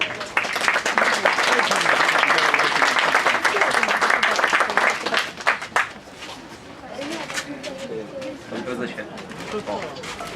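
Enthusiastic applause greets a third-place winner at a city flower-garden contest final in Szczecin, loud dense clapping for about six seconds before fading into scattered claps and people talking.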